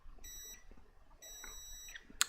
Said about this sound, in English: it should short out on specific points on the board, and it should beep